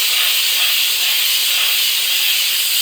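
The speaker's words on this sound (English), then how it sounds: "Again, I got it on full steam" A Silvercrest steam mop running on full steam gives off a loud, steady hiss that holds unbroken from start to end, with no talking.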